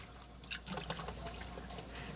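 Running water rinses sea moss clean of salt and sand, giving a close, steady trickle with a few splashy bursts early on, alone without talk.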